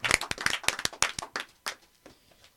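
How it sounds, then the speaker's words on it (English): A small group claps on a podcast, a short burst of separate, distinct hand claps that thins out into a few scattered last ones within about two seconds. "Round of applause on that one."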